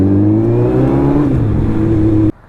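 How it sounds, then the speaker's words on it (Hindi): A Suzuki Hayabusa motorcycle engine revs loudly and close with a rough, sustained drone that shifts pitch, then cuts off abruptly into a quieter idle. "गाइस बहुत ज़्यादा बैक फायर मार रही है यार ये सेकंड वे ना"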